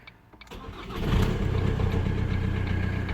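A Ford Mondeo ST engine cranks briefly and catches, then settles into a loud, steady idle close by.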